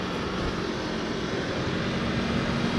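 2019 Aprilia Tuono V4 1100 Factory motorcycle engine running on the road, a steady loud drone with heavy wind rush and no clear breaks between gears.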